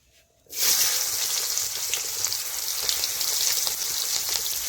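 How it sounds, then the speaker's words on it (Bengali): Chopped onion dropped into hot oil with whole cumin for a tempering, bursting into a loud, dense, continuous hiss after a brief quiet start, close and steady, with no voices. "গোটা জিরে ফোড়নে দিয়ে দেবো কুচানো পেঁয়াজ"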